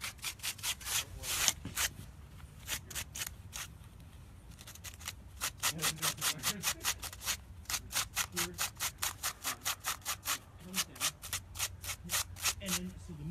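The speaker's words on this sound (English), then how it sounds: "So it adds that extra layer of texture if you just run over things with sandpaper first." Sandpaper scrubs over a costume to weather it, a steady run of quick rhythmic rubbing strokes close up, with brief pauses partway through and a faint voice in the background.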